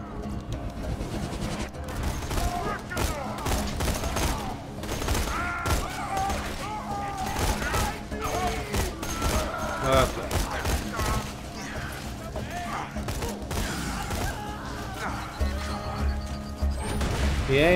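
Borderlands 2 gunfire with corrosive bullets: dense, continuous bursts of loud shots mixed with crashes and impacts, with game voices breaking through now and then.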